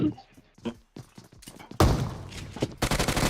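Gunfire in a shooting video game: scattered thuds and shots, then a loud burst of rapid fire about halfway through, with a voice speaking over the early part.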